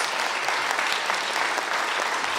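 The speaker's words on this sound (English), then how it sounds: "Give them all a big round of applause." Sustained audience applause at a civil society forum on refugee and asylum seeker policy, dense and steady throughout with no speech over it.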